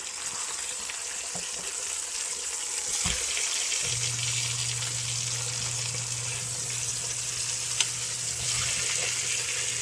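Beef osso buco searing in a hot pan after being turned, a steady loud sizzle and hiss running throughout with a low constant hum underneath, close by and with no voices.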